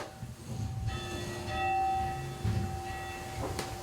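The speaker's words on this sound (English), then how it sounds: "See, I'm ringing the bell." An old schoolhouse bell rung by hand, giving a few clear metallic strikes with long sustained ringing tones that overlap and decay, heard fairly close with no talking.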